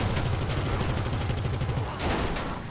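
In GTA Online, mounted guns spin up and fire in a continuous loud rattling stream of rapid shots that surges again near the end.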